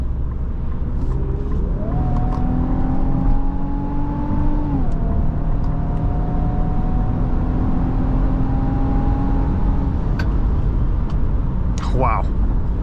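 A 2025 Infiniti QX80 SUV accelerates hard, its engine note climbing steadily with clear shifts between gears. The sound is loud and sustained from inside the cabin, over road and wind noise, before it levels off at speed.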